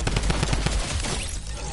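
Rapid video game gunfire, a fast burst of loud, closely spaced shots that trails off into echoing reverberation.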